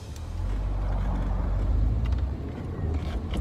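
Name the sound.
Audi TT car on a test drive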